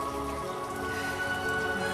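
Steady rain patters around a sailboat, a continuous dense hiss with scattered drops tapping nearby surfaces, fairly loud and unbroken, with no voices.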